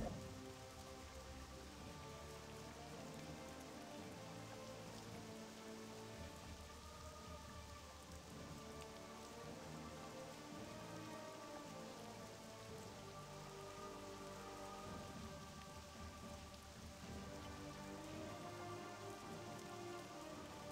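Steady, dense rain pours down in a World of Warcraft: Legion storm, a continuous even wash of drops with no voices, holding at a moderate level for the whole stretch.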